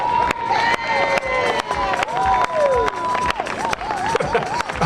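At an outdoor park tribute event, a crowd claps and cheers loudly, with sharp, regular claps over whooping and shouting voices.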